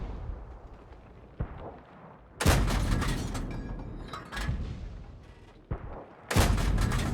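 A KB1 tank fires its main gun in a tank battle video game, with loud sharp booms followed by rumbling decay, two big blasts and smaller impacts over steady engine and battle noise.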